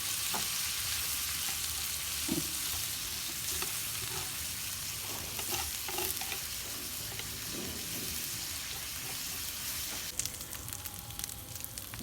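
Steady, dense sizzling of pork cooking on a hot Thai mookata grill, loud and continuous, with occasional pops and crackles throughout.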